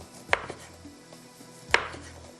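A knife cutting lemon slices on a board, two sharp chopping knocks about a second and a half apart, close and clear, with quiet room tone between and no talking.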